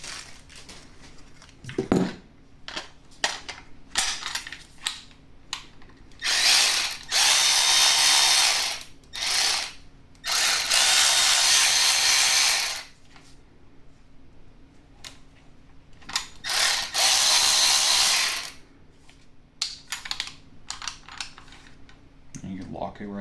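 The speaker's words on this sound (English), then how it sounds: "M12 battery with the ratchet." A Milwaukee M12 3/8-inch cordless ratchet runs in several loud bursts of a few seconds each, separated by clicks, handling clatter and quieter gaps.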